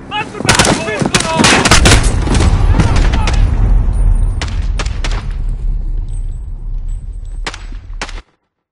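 Heavy Call of Duty gunfire in a campaign mission, a loud, dense barrage of rapid shots and booming blasts with deep rumbling underneath, continuing for several seconds before cutting off abruptly, with voices shouting faintly in the mix.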